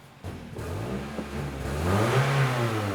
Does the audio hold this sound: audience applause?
no